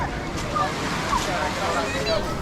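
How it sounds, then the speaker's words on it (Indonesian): Small ocean waves washing in at Drini Beach, Yogyakarta, as a soft continuous surf wash under wind noise, with a voice talking over it. "ada juga yang cuma duduk menikmati ombak kecil yang datang"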